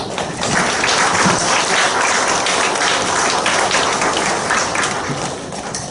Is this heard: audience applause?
yes